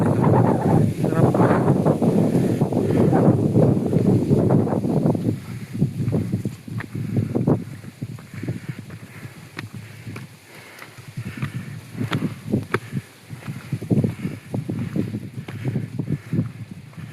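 Wind gusts buffet the microphone outdoors at a hilltop view deck in Bulacan, loud rumbling blasts at first that ease into intermittent gusts, while a person talks between them.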